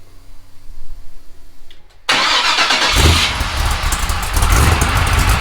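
A rock crawler's engine cranks briefly and catches, then roars into a loud, steady, rumbling idle up close with slight revving.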